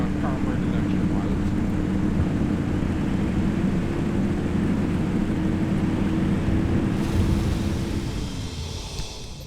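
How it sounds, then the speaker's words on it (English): A weak carburetor car engine in the driving game Pacific Drive drones with a steady low hum, then fades near the end as wind-like hiss rises, all beneath a player talking. "Wow, I forgot how damn weak the carburetor engine was."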